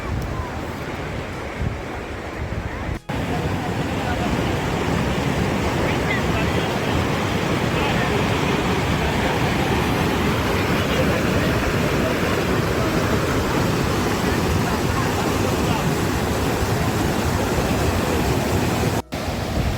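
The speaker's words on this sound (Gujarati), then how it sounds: "શાલીગંગા રિવરનો અવાજ તો જુઓ તમે" A loud, constant rush of the fast-flowing Shaliganga river near Doodhpathri, Kashmir, fills the whole stretch, broadband and unbroken, with no talking heard.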